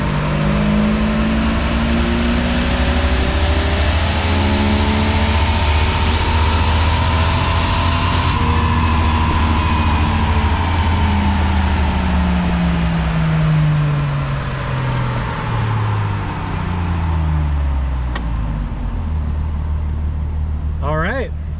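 A stock Jeep Wrangler TJ with the 4.0 engine revs on a dyno in second gear, rising steadily and loudly with a sweeping engine note before easing off, while someone speaks over it.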